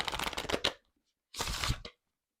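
Oracle cards being shuffled by hand, two close bursts of riffling paper flutter separated by a brief silence, with no talking.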